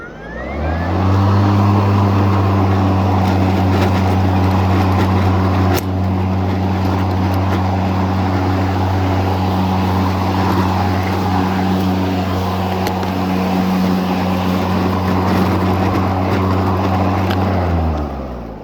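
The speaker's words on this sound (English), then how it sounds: "when I go ahead and start this mower and I move it around" An EGO 56V Select Cut XP battery lawn mower running steadily, a loud, even motor hum with a low tonal drone that holds for the whole stretch before cutting off, no talk.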